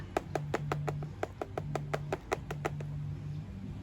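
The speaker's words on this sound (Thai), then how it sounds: "เคาะแบบนี้ให้ดินลงไปนะคะ" Firm, quick knocks on a pot holding a Gymnocalycium cactus settle the volcanic rock soil, about a dozen close taps in an uneven rhythm over a low background hum.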